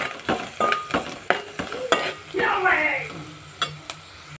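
A spoon stirs bitter gourd fry with salt and chilli powder in a pan, giving repeated sharp scrapes and knocks against the metal over a soft sizzle, close and fairly loud, with a brief swirl of frying in the middle.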